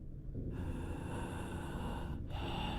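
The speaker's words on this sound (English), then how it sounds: "The sound of someone breathing into their microphone was what I was greeted with." Close, heavy breathing into a microphone, a slow inhale followed by a long breathy exhale, with a short gap before another breath.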